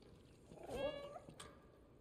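A single soft cat meow in a video game, faint and brief, a short rising-falling mew against a quiet background.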